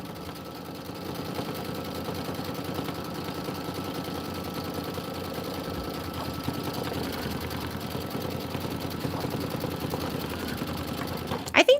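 A sewing machine runs steadily, stitching a white placement stitch on a Kimberbell snowman quilt block for a pillow, a continuous mechanical whir with even rhythm from start to finish and a few brief bumps at the very end.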